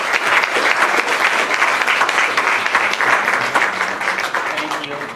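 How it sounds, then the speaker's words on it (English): An audience at an academic talk gives a round of applause: loud, dense clapping from many people, steady for several seconds before easing off slightly at the end. "I think we should first of all give them a round of applause."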